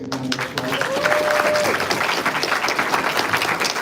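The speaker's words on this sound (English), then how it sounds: "Let's give them a big round of applause." Big round of applause at a school music honor society induction ceremony, a crowd clapping loudly and continuously, with a brief voice briefly audible at the start.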